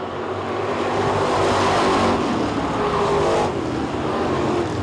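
Street stock race cars roar around a speedway in a steady, loud wash of engine noise, which swells as the pack passes and then eases off a little.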